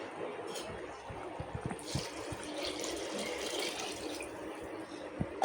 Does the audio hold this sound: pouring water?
yes